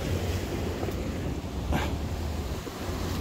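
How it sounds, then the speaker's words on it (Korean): Sea waves breaking and washing along the shore at a fishing spot, a steady broadband roar with wind buffeting the microphone throughout, one brief louder surge midway. "여기 파도가 나가는 거 보이시죠?"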